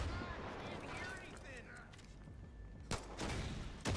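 Gunfire and an explosion from a Far Cry 5 co-op firefight, with a dense rumble of shooting throughout and two sharp, loud bursts near the end, under a constant noisy battle bed.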